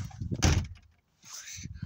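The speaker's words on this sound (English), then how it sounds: "So I'll just shut the door." A house back door pushed shut with one brief, close thud, followed by a moment of quiet and faint outdoor sounds.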